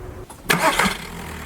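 Skoda Fabia Mk1 1.9 PD diesel engine cranking and catching, a brief burst of starter churn that settles into a steady idle, heard close and moderately loud.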